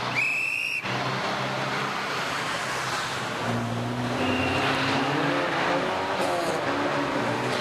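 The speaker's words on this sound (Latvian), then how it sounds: "un tā tad sāb 96, 74. gada versija, Iegons Lapiņš, Valds Ceplevičs" A 1974 Saab 96 rally car at a historic rally passes by, its engine note climbing and shifting pitch as it approaches and goes past, over a rough background of crowd and road noise, with a brief whistle-like tone at the start.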